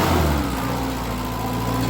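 Turbocharged Isuzu Crosswind engine running loud and steady close by, a dense continuous roar with a strong low hum and little change over a couple of seconds.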